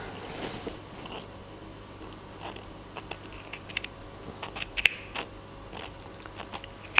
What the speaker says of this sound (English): now what I'm going to do is I'm going to snip in the curve of the neckline